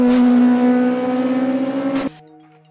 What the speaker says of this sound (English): the combustion engine starts to kick in